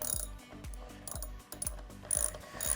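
A geared motor on a Dometic Vacuflush toilet turns in repeated ratcheting cycles while its eccentric is tightened, a steady rhythmic clunking and whirring about every half second, close up with no talking.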